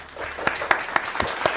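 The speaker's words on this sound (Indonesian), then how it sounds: "Boleh tepuk tangan dulu?" Applause at an informal school gathering: a small group claps in a quick, fairly regular rhythm, with individual hand claps standing out up close.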